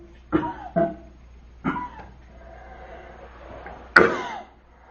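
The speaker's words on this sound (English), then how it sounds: "I just coughed and sneezed at the same time." Several sharp throat bursts in a quiet indoor room, a few coughs spaced apart and then a louder combined cough and sneeze near the end, close to the microphone and unaccompanied by talk.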